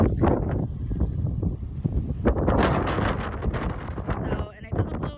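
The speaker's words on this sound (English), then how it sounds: "you can kind of get a better feel of how incredibly windy it gets" Strong gusty wind blows through an outdoor garden, a loud, continuous rushing buffet against the microphone for the whole stretch, with voices faintly mixed in.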